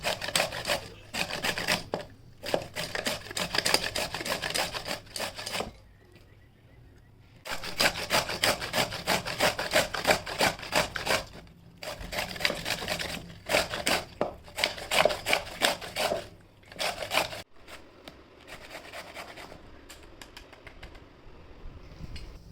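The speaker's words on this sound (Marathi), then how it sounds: "कैऱ्या अशा सगळ्या किसून घ्यायच्या." Raw mangoes rubbed against a hand grater in repeated rapid rasping bursts, close and fairly loud, separated by short pauses; no talking.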